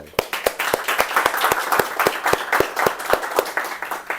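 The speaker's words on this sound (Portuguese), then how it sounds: "uma salva de palmas para eles" Applause from an audience at a sales training talk: a wash of clapping with sharp, evenly spaced claps in unison cutting through at a brisk, steady beat, loud and sustained for the whole stretch.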